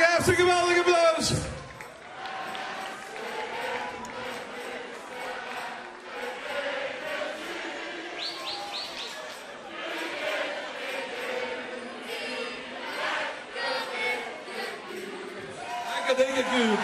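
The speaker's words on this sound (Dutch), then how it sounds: "Geef een geweldige applaus." Crowd at a children's carnival song festival in Kinger claps and cheers, with whoops and shouts rising over sustained applause. It is loud and lively throughout and swells again near the end, with voices mixed in.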